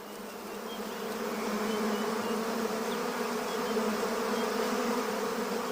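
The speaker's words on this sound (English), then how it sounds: "One of the baobab's hollow limbs makes the perfect home for their hive." A honeybee colony drones steadily at its hive inside a hollow baobab limb, a dense, continuous close buzz that swells slightly and then holds level with no voices.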